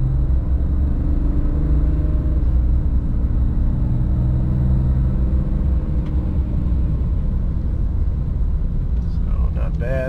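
A 2024 Dodge Ram Cummins Turbo Laramie diesel pickup accelerates wide open, a loud, steady low engine rumble and drone heard from the cab, with a faint rising whine near the end.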